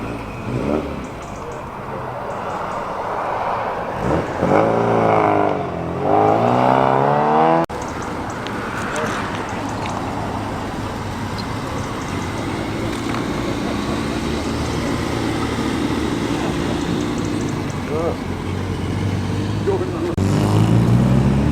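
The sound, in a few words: Austin Healey Sprite classic car departing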